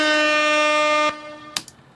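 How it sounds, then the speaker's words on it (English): A loud, sustained air horn blares for about a second, then cuts off, followed by a couple of brief clicks. "And let's go get this air horn."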